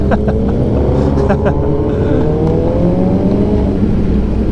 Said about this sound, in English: And these guys are putting wheel spins.